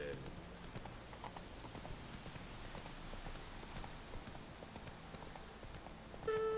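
Steady clip-clop of horse hooves galloping in The Witcher 3 video game, a continuous close rhythm heard under talk.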